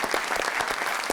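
A studio audience on a television talk show claps steadily, a dense, even patter of many hands sustained throughout without a break.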